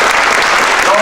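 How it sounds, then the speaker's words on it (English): Audience applause at an event for the Academy of Irish Music during the Irish President's visit to the Irish American Heritage Center in Chicago: dense, steady clapping from a crowd, loud and continuous, with some voices mixed in. "let's have our great round of applause for the Academy of Irish Music."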